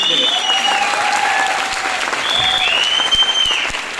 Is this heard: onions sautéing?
no